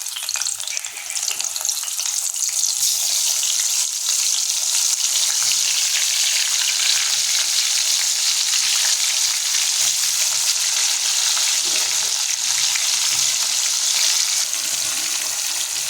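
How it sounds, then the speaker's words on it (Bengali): Salted, turmeric-coated young jackfruit pieces fry in hot oil, giving a steady, close, dense sizzle that holds evenly for the whole stretch with no voices. "লবণ মেখে হলুদ লবণ মেখে রাখা এঁচোড় টুকরোগুলো গরম তেলের উপর যোগ করছি"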